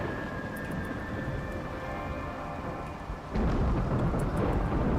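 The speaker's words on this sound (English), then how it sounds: "But this thunderstorm is manic." Thunderstorm in a video game: heavy rain pours steadily, then a loud, deep rumble of thunder swells in and holds for the last couple of seconds, with no talking.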